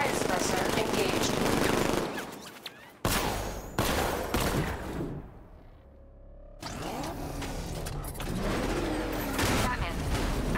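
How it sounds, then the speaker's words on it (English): A riot suppressor cannon fires in Batman: Arkham Knight as dense, loud bursts of rapid gunfire, broken by a short lull before a second sustained barrage, with a spoken voice in the game. "Cannon operational. Riot suppressor engaged."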